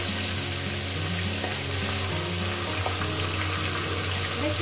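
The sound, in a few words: frying bhetki fish bones in a pan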